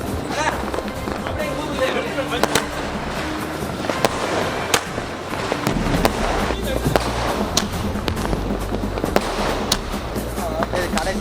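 Diwali firecrackers crackle and pop continuously in rapid bursts, loud and close, with voices shouting in the background.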